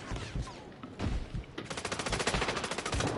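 Gunfire in the video game Call of Duty: a few scattered shots, then a fast, even burst of machine-gun fire that rattles on loud and close.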